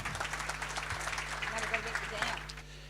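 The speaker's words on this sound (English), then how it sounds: "Big round of applause." Audience applause at an event, a moderate spatter of clapping heard under and around ongoing talk and background hum.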